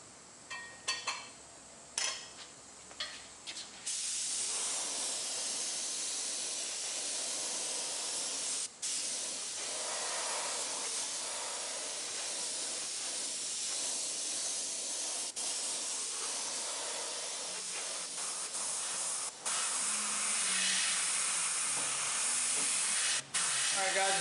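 A spray gun applying catalyzed primer and paint to a sanded wooden gun stock: a few short bursts give way to a long, steady close hiss of spraying, broken by brief pauses.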